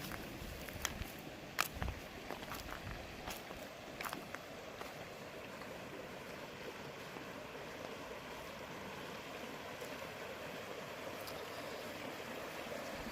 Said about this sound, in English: here's Sycamore Creek itself. Really nice creek.